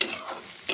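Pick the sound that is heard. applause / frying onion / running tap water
frying onion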